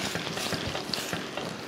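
Oil and sprinkled water sizzling on a hot iron tawa being seasoned, a dense, close crackle with rapid small pops and spits running steadily throughout.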